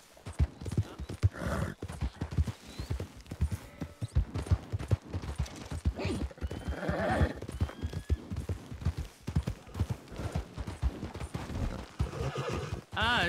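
Horse hooves clip-clop in a steady, fast rhythm throughout, loud and close, with the horse neighing and whinnying several times and a voice briefly heard over the hoofbeats.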